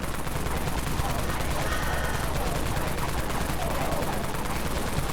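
Rapid sustained automatic fire from the Unlimited Wraith Cannon in the Dead Frontier game, a dense continuous barrage of shots running loud and unbroken throughout.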